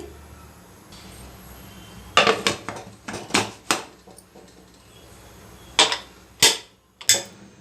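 Metal lid clattering onto a pressure cooker while mutton curry with chakota greens cooks, a burst of sharp clanks and rattles followed by several separate metallic knocks, close and fairly loud over a quiet kitchen background.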